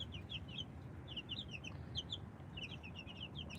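Bantam chicks on their first day outdoors peeping in quick, high, repeated chirps, several birds overlapping in faint, busy clusters over a soft low background rumble.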